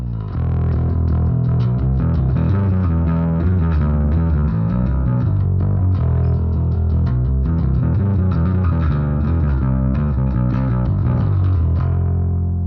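Electric guitar played clean through a Trivium AmpKnob amp plugin with the drive switched off, a steady, loud run of strummed chords and picked notes lasting throughout, with no talking.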